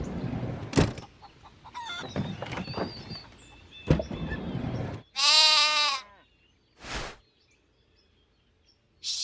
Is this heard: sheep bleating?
yes